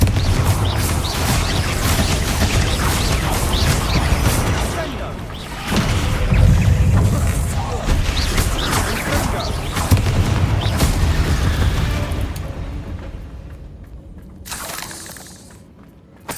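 Confringo blasting spell explosions in the Hogwarts Legacy video game, heavy booming crashes and shattering bursts repeating through loud combat noise, with game voices speaking over the fighting.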